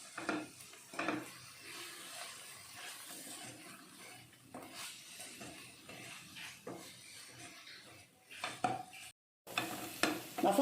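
A spoon stirs and sautés masala in a pan on low flame for restaurant-style gobi manchurian, with steady scraping and rubbing strokes over a soft sizzle, close up and without talk, broken by a brief gap near the end.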